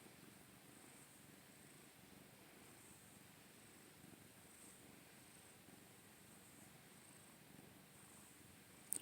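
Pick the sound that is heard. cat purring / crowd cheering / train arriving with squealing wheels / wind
cat purring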